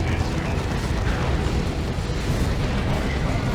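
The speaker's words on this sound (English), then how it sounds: "Missile launcher going in." Dense, continuous rumbling blast roar from a missile launcher in Dawn of War 2 battle, loud and close with heavy low-end booming sustained throughout.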